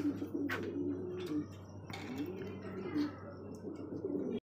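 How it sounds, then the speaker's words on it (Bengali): A pair of racer pigeons coo in low, repeated throaty bursts close by, a few distinct calls spaced across a steady background hum. "একজোড়া রেসার কবুতর"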